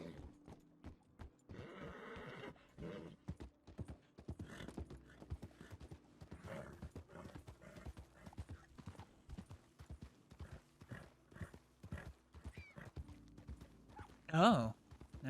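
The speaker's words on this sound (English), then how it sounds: "Oh no, this is not the time to be spooked, Grattan. Not going over a bridge like this" Video game horse hooves clop in a steady rhythm while crossing a bridge, with a brief whinny near the end and faint clanking mechanisms, moderately close.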